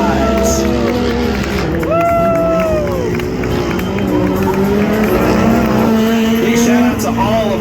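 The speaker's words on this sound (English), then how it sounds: "Trying to finish it out here in the side-by-side race." Side-by-side vehicles racing on a speedway with an infield section at a figure-8 demolition derby event, engines roaring continuously and loud, pitch rising and falling as they pass, with an announcer talking over the noise.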